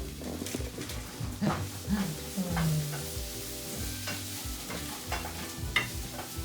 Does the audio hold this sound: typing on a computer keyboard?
no